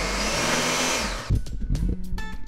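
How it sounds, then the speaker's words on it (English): A kitchen blender whirs loudly while blending a tortoise food mix, then cuts off abruptly, leaving clattering and knocking sounds from the jar. "stick it in my blender, and blend it till I get the desired consistency that I want"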